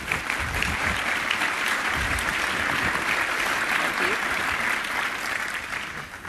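An audience at a fireside chat on energy applauds to welcome the speakers, a full, steady burst of clapping that holds for several seconds before tapering slightly.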